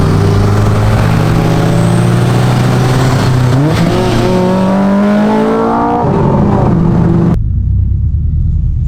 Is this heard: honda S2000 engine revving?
yes